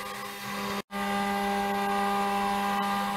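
A CNC router carves a 3D logo with a steady, moderately loud mechanical whine and hum, broken once by a brief silent gap, then running on evenly.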